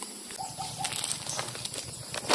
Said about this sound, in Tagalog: mga humi ng ibon